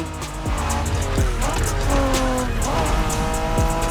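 A 1990s Honda NSX race car in The Crew Motorfest revs hard through rising gear changes, its engine note climbing and dropping in steady sweeps while tires squeal in short bursts, loud and close with no talk.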